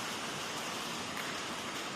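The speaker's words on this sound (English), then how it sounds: "This is actually the hardest it's rained in a long time." Heavy rain pours down in a dense, unbroken hiss that stays steady and loud throughout, with no voices over it.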